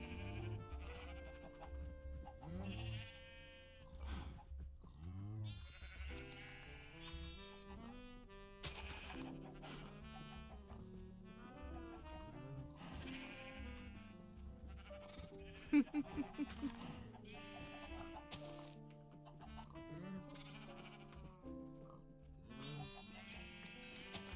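Sheep bleat repeatedly in Minecraft over a busy, melodic game soundtrack, with a few short chicken clucks mixed in.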